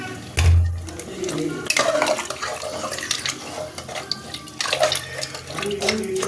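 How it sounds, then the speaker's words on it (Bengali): Water pours into a pot of mutton curry with a loud initial splash and then a steady rushing stream, followed by stirring and clattering against the pot, close by. "এবার জল দিয়ে দিচ্ছি ঝোল ঝোল মতো হবে তো জল দিয়ে দিলাম"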